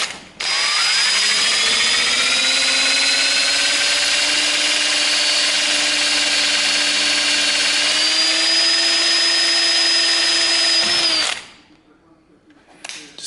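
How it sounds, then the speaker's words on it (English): A power drill drilling out a broken piece in an RB30 engine, one loud continuous whine lasting about eleven seconds with a slight pitch rise, then stopping abruptly into quiet. "then we'll just quickly drill that out"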